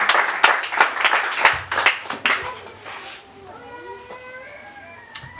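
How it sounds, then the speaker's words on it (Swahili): Church congregation applauding in a burst of dense clapping during a Swahili sermon, loud and close for about three seconds before fading to quieter murmurs and a few scattered claps. "Makofi kwa Bwana Yesu aliye hai."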